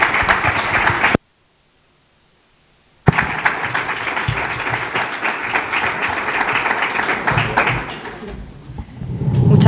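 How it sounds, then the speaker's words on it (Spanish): An audience in Abarán applauds the town's nurses with dense, steady clapping that breaks off into a short silence, then resumes and carries on before fading slightly near the end. "me gustaría rogarle un aplauso a todos ustedes, no a mí, sino a todos los practicantes de este pueblo"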